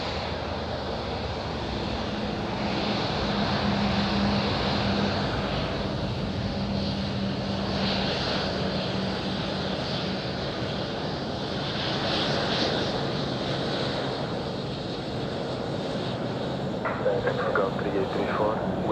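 An aircraft taking off from runway 05 at Madeira Island Airport, a steady loud engine roar that holds and swells across the whole stretch, with faint radio chatter underneath.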